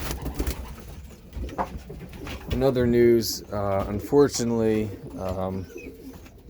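Low coos from racing pigeons in a home loft murmur in the background while someone talks over them, the birds' soft throaty calls blending beneath his voice.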